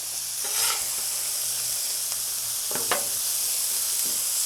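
80/20 ground beef sizzles steadily on a Blackstone griddle, a close, constant hiss with a few sharper scraping strokes as the spatula mixes the meat.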